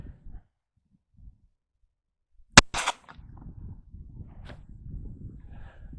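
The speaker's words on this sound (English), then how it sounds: "Alright, I'm going to shoot this one." A single sharp gunshot from a Taurus .380 pistol cracks close by with a brief echo, in a quiet outdoor setting, followed by soft rustling and movement.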